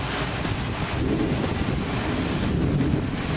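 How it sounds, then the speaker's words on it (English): Strong wind gusts by the sea, a dense, steady roar buffeting the microphone, with surf-like rushing underneath and no voices. "Rowdy and windy."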